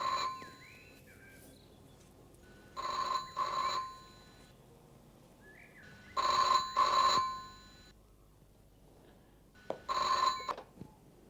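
A telephone rings in three separate double bursts, loud and close, with quiet pauses between them.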